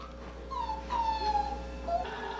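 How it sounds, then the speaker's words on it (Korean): Jindo puppies, just over a month old, on a farm in Jindo, Korea, whimpering in thin, high, drawn-out cries, three or four plaintive whines close by over a steady low background hum, with no talking. "진도 홍선호 씨의 집안은 강아지들이 점령을 했다."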